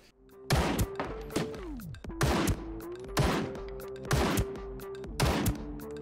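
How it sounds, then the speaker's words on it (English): Distant gunfire from a shooter up on a mountain range in the battle royale game Ring of Elysium: several sharp, booming shots spaced a second or so apart, each with a short echoing tail, over a steady low tone, with no talk. "that was someone up on the mountain range shooting them"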